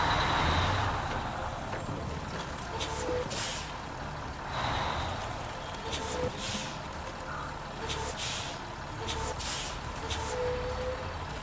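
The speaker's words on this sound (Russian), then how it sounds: "Звук тормозов, кстати, крутой." Truck brakes squeal in SnowRunner near a quarry on the Taimyr map, with thin, high, scratchy squeaks that come and go over a steady engine rumble.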